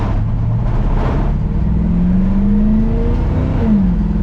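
A 1954 Chevy Cabover truck driving on the road, its engine loud and close, revving up with rising pitch, easing off and revving again.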